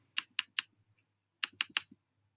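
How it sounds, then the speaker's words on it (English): Computer keyboard keys clack in two short bursts of three or four crisp strokes each, close and fairly quiet, with a brief pause between the bursts and no speech. "Sorry about the clicking sounds."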